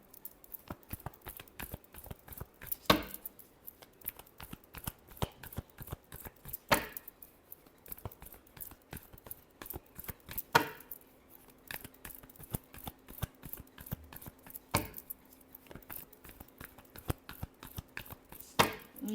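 Tarot cards are shuffled by hand in soft, rapid riffling and patting strokes, with sharper slaps every few seconds, close and quiet with no talk.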